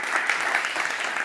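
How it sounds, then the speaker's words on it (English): A quiet, steady patter of hand claps from the audience greets a speaker at a talk on micro- and nanoplastics, even and continuous throughout at a moderate distance. "you can give her an applause"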